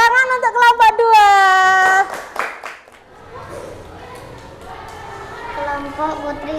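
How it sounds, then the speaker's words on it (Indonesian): A classroom of schoolchildren claps for group 2 after their convex-mirror experiment; a teacher's voice comes first, then a burst of scattered hand clapping mixed with children's chatter. "Tepuk tangan untuk kelompok 2."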